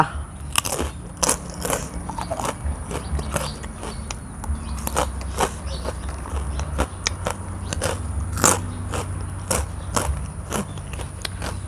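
Boiled chicken feet in spicy papaya salad with fermented fish are chewed up close, with repeated wet crunches, bone crackles and biting sounds in an uneven rhythm and no talking.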